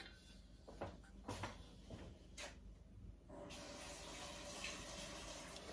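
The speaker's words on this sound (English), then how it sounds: "I am going to just cover this with a little bit of water." Tap water pouring into a pan of rinsed red currants in a kitchen, a steady, quiet rushing stream that starts after a few soft clatters and runs on to the end.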